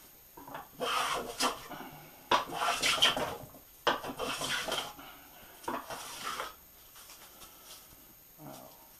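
A modified Silverline No.5 scrub plane rasps across wood in repeated scraping strokes, uneven rhythmic bursts of shaving sound, close by, ending with a short voice.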